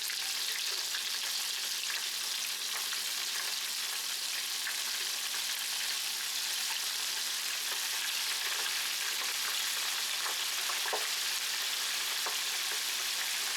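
Chicken livers and gizzards deep fry in hot oil, giving a loud, continuous dense crackle and hiss that holds steady throughout with no voices.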